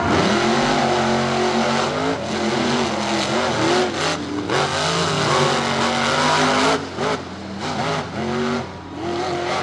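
Monster trucks in a rallycross race at Charlotte Motor Speedway roar loudly and continuously, their engines revving and shifting pitch with tires squealing as they run down the front straightaway.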